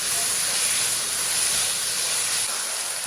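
Steady broadband sizzle and hiss of stir-frying in a pan with black pepper and a little salt added, continuous and close with no talk.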